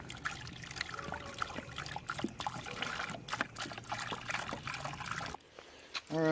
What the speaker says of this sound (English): Alright, fucking fill the radiator.